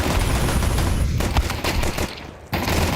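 Dual Beretta pistols fire in a Counter-Strike esports match at IEM Katowice 2025, a relentless, dense stream of overlapping gunshots with brief dips in the barrage and almost no talk.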